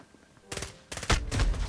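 Gunfire in a gun game match of Modern Warfare season 5, with a few quick bursts of shots and a heavier, louder volley that builds toward the end, heard close with no talk over it.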